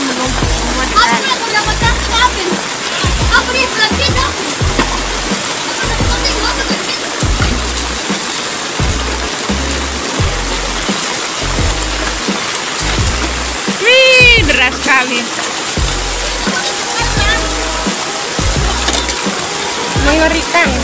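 Floodwater rushes loudly and steadily behind a house during heavy rain in Manokwari, debris piled up in the flow, with a constant close roar and splashing throughout.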